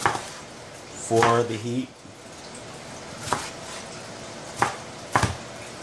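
Jalapenos chopped with a knife in a home kitchen, a few sharp blade taps on the board spaced apart, close by, after a short stretch of a person speaking.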